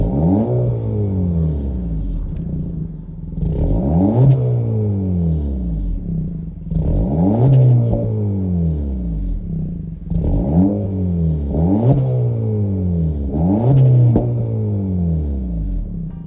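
A 2023 Acura Integra A-Spec with a 1.5-liter turbo four-cylinder is revved repeatedly from idle, each climbing rev falling back down in a regular cycle, loud and close with no talking.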